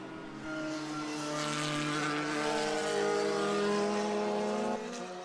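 Race car at a Grand Prix road course sweeping past at speed, a steady loud engine drone with harmonic whine that holds for several seconds before cutting off near the end, no voices.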